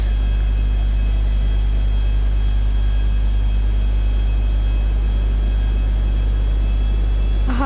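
Steady droning engine hum of a plane in flight over the docks in Grand Theft Auto, a continuous low rumble with faint tonal whine, unchanging and alone.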